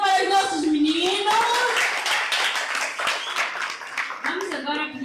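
An audience clapping for young performers at a children's book festival, steady applause running under a loud voice speaking over it throughout.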